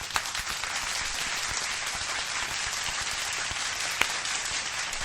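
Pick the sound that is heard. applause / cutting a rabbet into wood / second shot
applause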